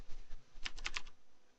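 A computer keyboard is typed on in a quick burst of four or five crisp keystrokes, close and clear against a quiet room with no talking.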